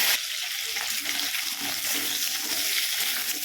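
Cut potatoes frying in hot oil with curry leaves and mustard seeds, a steady dense sizzle running throughout with soft stirring scrapes, close and even, no voices.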